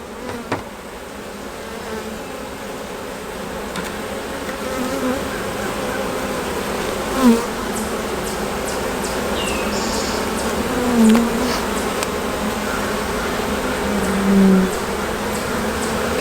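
Honey bees buzzing around an open beehive, a steady dense drone close by with occasional louder individual bees passing near, no talk.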